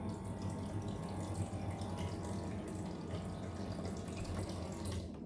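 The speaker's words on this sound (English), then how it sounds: "After hooking up the water pump, I also drilled holes in the sink basin to allow the water to drain" Water from a small pump runs steadily into the sink of a DIY IKEA toddler play kitchen, making a continuous close splashing trickle with no pauses and no voices.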